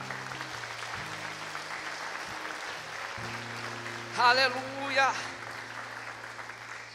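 A church congregation applauds softly and steadily during an evening sermon, a wash of distant clapping with a preacher's brief exclamation rising above it partway through.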